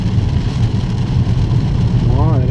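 A BMW car engine on the Barcelona-Catalunya circuit rumbles low and close while accelerating gently, with the pitch rising slightly near the end.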